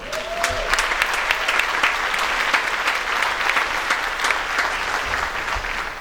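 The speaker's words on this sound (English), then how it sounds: "A nice round of applause." A reunion crowd applauds the organizing committee, loud dense clapping from many hands sustained steadily throughout without speech, a brief tone sounding near the start.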